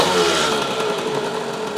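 A Yamaha GT80 motorcycle engine idles steadily, with a slight exhaust leak, giving a continuous close, fairly loud mechanical drone with no voices.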